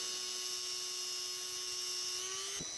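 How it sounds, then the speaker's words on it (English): A rotary tool fitted with a small cutoff wheel cuts grooves into a Damascus steel ring, giving a continuous high-pitched whine that stays steady and close, then dips in pitch as the wheel bites near the end. "Using a small cutoff wheel on the rotary tool, I can cut the small grooves into the ring."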